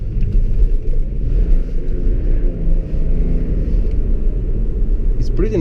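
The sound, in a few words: BMW 535d turbo diesel car engine during city driving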